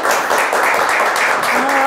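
Studio audience applause on the Turkish word game show Kelime Oyunu, a dense, steady wash of clapping that holds at full level for the whole stretch, with no clear gaps.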